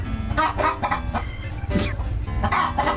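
A chicken clucks in repeated short, close bursts, with other fowl sounds and faint voices underneath.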